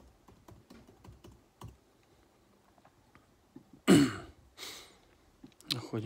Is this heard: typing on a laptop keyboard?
yes